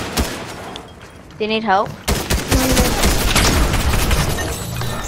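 Fortnite players firing at an NPC, rapid bursts of gunshots crackling loudly after a short stretch of speech, with voices over the shots.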